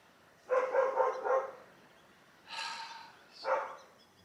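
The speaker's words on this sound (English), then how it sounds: "These dogs." A dog gives a few muffled barks, a quick burst of four followed by two more separated yaps, fairly close in a quiet room.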